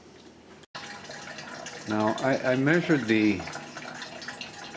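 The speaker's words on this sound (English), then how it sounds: "I measured the flow rate of the water that's coming out" Water streams from a Sawyer Zero Point One filter in a home bucket setup, flowing at about a cup per minute as a steady wash beneath a voice, which dominates the middle of the clip.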